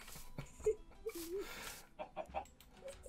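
A chicken in Minecraft clucks in short, separate bursts, a few close squawky calls spaced irregularly against a quiet background.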